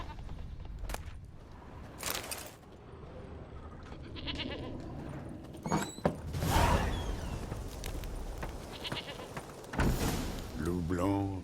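Goat bleating in The Witcher 3, a few short bleats scattered among game sounds and other noises, with a voice speaking over parts of it.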